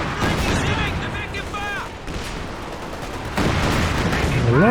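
Loud, dense battle din from the Company of Heroes 2 strategy game, with Katyusha rocket barrages and machine gun fire rumbling and crackling continuously, while a commentator talks over it.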